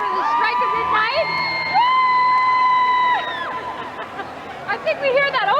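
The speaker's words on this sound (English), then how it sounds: "It's the cheer for 2000, and here it's just as loud as ever." A big New Year's crowd roars and cheers at the stroke of midnight for the year 2000, with people dancing near a stage. The cheering is loud and continuous, with sustained high horn-like tones rising above the crowd.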